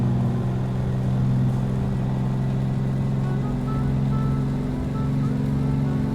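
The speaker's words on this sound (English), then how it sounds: "I'm quite enjoying the sound of these big radio engines." Twin radial engines of a Grumman Goose in Microsoft Flight Simulator drone steadily and loudly, a deep even rumble that holds without change for the whole stretch.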